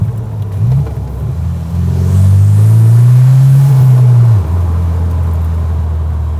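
A new Morgan Plus Four sports car drives along, its engine rumbling loud and close, rising in pitch as it accelerates through a gear, then settling into a steady lower drone.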